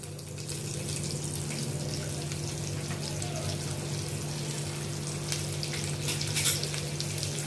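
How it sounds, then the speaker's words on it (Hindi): Curry leaves and long-sliced onion fry in oil with a steady, moderate sizzle under a low background hum, briefly crackling louder toward the end. "इसमें मैं ये थोड़े कड़ी पत्ते डालती हूँ और इसमें मैं ये लंबा कटा हुआ प्याज डालती हूँ।"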